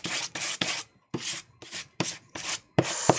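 A spatula scrapes acrylic paint across a surface in eight short rasping swipes, each a close, dry scratch separated by brief pauses, with no talk.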